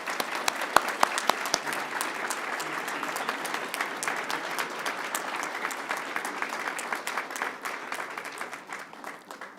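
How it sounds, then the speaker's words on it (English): A room at a school district board of trustees meeting breaks into sustained applause for a student award winner, with scattered claps at the start building into a dense, steady ovation that slowly thins out, no speech over it. "Let's give her a big round of applause."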